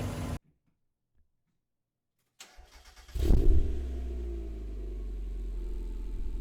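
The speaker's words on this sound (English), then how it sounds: "take it around for a quick test drive" A Subaru Legacy, just repaired for EGR trouble, cranks and starts after a silent pause, then settles into a steady, close engine rumble as it sets off on a short test drive, with no talk over it.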